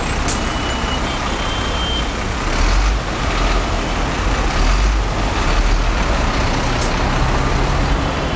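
Yellow local buses rumble along a busy street near Freedom Square in Tbilisi, Georgia, a loud continuous engine and traffic roar with short beeping tones and a brief hiss of brakes, heard from nearby with no talking.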